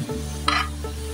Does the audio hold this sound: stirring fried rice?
yes